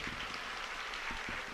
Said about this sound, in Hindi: मैं चाहता हूं उन बच्चों के नाम आपकी एक बार तालियां उनके समर्थन में बजे